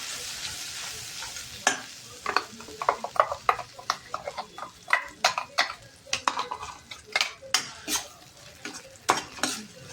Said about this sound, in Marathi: फक्त आता इथे थोडे 1-2 मिनिटभर परतून घ्यायचं।